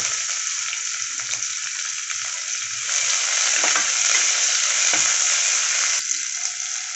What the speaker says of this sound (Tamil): பிரிஞ்சி இலை எல்லாத்தையும் சேர்த்து வதக்கி விடுங்க